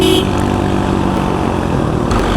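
A motorcycle climbs hilly roads near Sajek in third gear, its engine giving a steady, loud, continuous drone that holds throughout with no talking.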